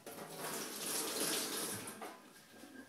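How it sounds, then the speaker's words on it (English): Tap water runs steadily into a kitchen sink as hands are washed, a close, continuous splashing stream with no talking. "Let me just wash my hands."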